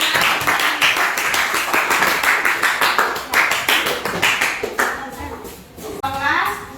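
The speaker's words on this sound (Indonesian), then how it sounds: "beri tepuk tangan untuk kelompok 4" Classroom applause for a group of students: steady brisk clapping from many hands fills the room for several seconds, then thins out as a teacher's voice comes in near the end.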